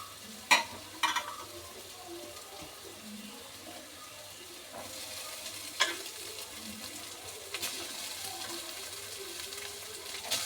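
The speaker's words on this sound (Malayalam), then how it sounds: "നമ്മുടെ വേവിച്ച് വെച്ചിരിക്കുന്ന ചോറ് അതിലേക്ക് തട്ടിയാലോ" Cooked rice is tipped into tomato masala frying in a pan and stirred in. A soft, steady sizzle runs throughout, with a few scraping knocks of the spoon, close and moderately quiet.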